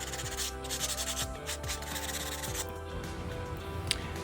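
Rubbing, scraping strokes from sanding a foam sponge cube for dollhouse furniture, a steady close abrasive rasp that runs continuously with no voices.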